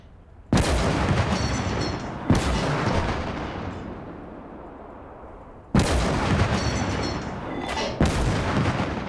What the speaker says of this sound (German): Wie der Schuss über die Karte fliegt, ist lustig.